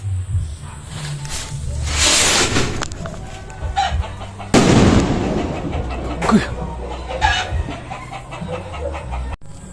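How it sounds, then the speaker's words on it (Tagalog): Super jumbo amparo fireworks are test-fired outdoors, giving sharp whooshing launches followed by loud bursts and trailing crackle, two main blasts a few seconds apart. "Okay, firing. Super jumbo amparo, regular."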